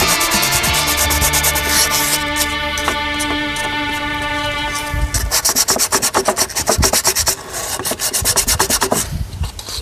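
100 grit sandpaper is rubbed by hand over a valve cover surface on a 2001 Cadillac DeVille, with fast rhythmic scratchy strokes that grow more pronounced over steady background music.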